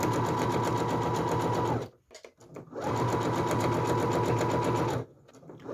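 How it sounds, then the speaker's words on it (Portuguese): A Singer HD6805 sewing machine stitches leaf-shaped fabric in two steady, close bursts of rapid mechanical whirring, separated by a short pause with faint handling noise. "Posiciono novamente o tecido na máquina, a folha na máquina e costuro."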